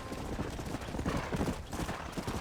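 Horse hooves clip-clop in a quick, uneven rhythm across the dirt in the Red Dead Redemption game, a steady run of close, moderately loud beats without speech.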